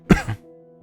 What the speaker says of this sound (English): I am coughing with every breath and I am so tired.